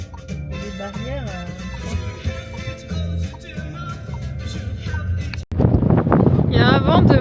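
Strong wind buffets the microphone outdoors in Torres del Paine, a continuous loud rumbling roar under talk, then a sudden gust surges louder near the end.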